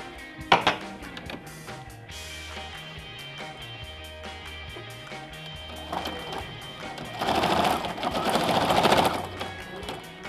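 A sewing machine stitches a short straight seam on clothing, a steady close whirring run with brief starts and stops, swelling louder toward the end, with no one talking over it.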